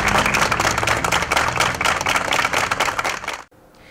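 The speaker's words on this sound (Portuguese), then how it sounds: "amigos da profissão realizaram uma salva de palmas em frente ao local onde" A group of colleagues stands outdoors in front of a workplace and claps in tribute. The applause is dense, steady and close for about three and a half seconds, then stops abruptly, leaving near silence.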